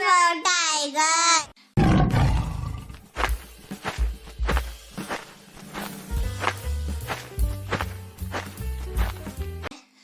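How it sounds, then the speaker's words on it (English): A tiger roars in a children's phonics alphabet song, a loud growling roar following a brief sung line, then rumbling and thumping over a light musical backing. "T for tiger."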